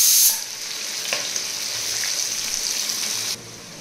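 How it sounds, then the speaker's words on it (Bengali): Potato pieces fry in hot oil until browned, a steady close hiss of sizzling that holds evenly, with a brief louder burst at the start and a drop near the end. "লাল করে আলুগুলো ভেজে তুলে নেবো।"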